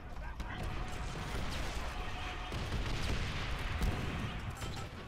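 A grenade explosion in Call of Duty 5, a dense rumbling blast and crackling gunfire filling the whole stretch, loud and continuous, with voices talking over the battle.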